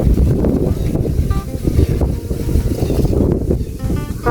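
Strong wind gusts batter the microphone outdoors beside a house under construction, producing a loud, continuous low rumble that swells and eases throughout with no talk.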